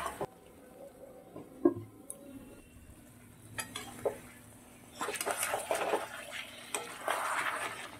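Mutton braising in a pan with meat masala, stirred with a utensil that scrapes and clinks against the metal in irregular strokes over a low sizzle, with louder, busier stirring in the second half.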